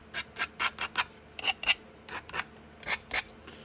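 Hand sanding with sandpaper, with no orbital sander, for a Mamiya RB67 Polaroid back: about a dozen short, crisp rasping strokes in an uneven back-and-forth rhythm, close and clear.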